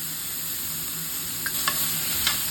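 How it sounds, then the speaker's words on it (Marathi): Onion sautéing in a pot for mutton rice makes a steady, close sizzle with a few faint scrapes of stirring near the end, and no voices. "कांदा खूप लाल व्हायला द्यायचा नाहीये साधारण गुलाबी रंग येईल तोपर्यंत परतत राहा"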